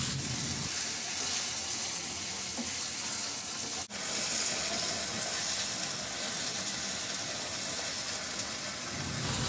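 Small chicken pieces fry in a pan for pansit with a continuous loud sizzle and occasional stirring scrapes, steady throughout with a brief dip midway and no speech.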